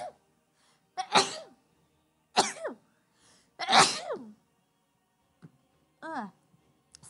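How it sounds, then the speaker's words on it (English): A person close by has a sneezing fit: four or five sharp, explosive sneezes come in quick bursts separated by short quiet gaps, with faint breaths between them. "Sneezing fit."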